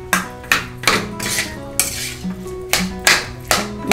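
A metal spoon scrapes and clanks against a pan while mixing spiced potato filling for bread patties, a run of sharp, close clinks at a loose, uneven rhythm with no talk.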